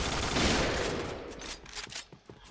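Bursts of Famas G2 rifle fire from the shooter game Point Blank, a dense crackling volley at first that thins into scattered sharp shots, fairly quiet and with no talk.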